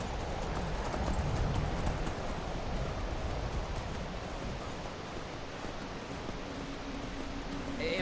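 A horse ridden along a path in Skyrim, its hooves clip-clopping in a steady rhythm at moderate loudness over a soft, noisy outdoor ambience.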